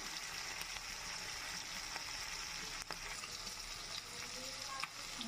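Shrimp fry in a pan with salt, turmeric and cumin powder, giving a quiet, even crackling sizzle with a few faint ticks of a spatula; no one speaks.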